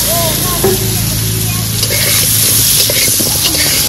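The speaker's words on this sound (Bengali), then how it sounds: "আলুগুলো এবার ভেজে নেব।" Potato pieces frying in hot oil in a pan, a steady bright sizzle with crackles throughout while someone talks over it.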